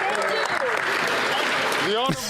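Members of parliament clapping in the chamber, a dense burst of applause that runs steadily for about two seconds, with a voice speaking over it throughout.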